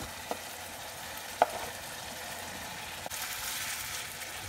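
Sliced onion with parsley and coriander sautéing in a pan, a faint steady sizzle with a few soft clicks and stirring scrapes.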